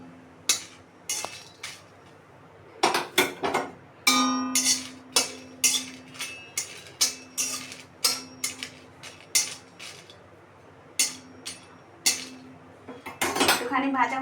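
Dry red chillies roasting in a pan, with a metal spoon stirring them and striking the pan in a steady run of sharp, close clinks and scrapes over a low hum.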